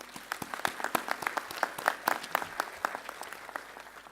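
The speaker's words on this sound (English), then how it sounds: "please join me in giving them a round of applause" Audience applause at the Impact 2018 event, honoring its organizers: a room of people clapping in a scattered, uneven patter of sharp individual claps that holds steady for a few seconds, with no talking.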